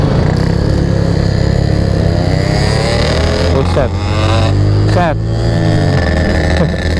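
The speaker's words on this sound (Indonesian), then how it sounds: "Ereking cuma dua motor aja kayak rame." Two motorcycles revving their engines at a street gathering near Tangerang's town square, loud throttle blips rising and falling over a steady rumbling idle, with people talking close by.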